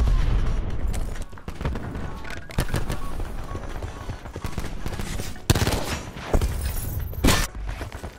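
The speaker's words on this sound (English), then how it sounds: "Battery firing." Dense, continuous video-game gunfire with repeated sharp blasts and heavy booms as an artillery battery fires, loud and sustained across the whole stretch with several stronger impacts near the end.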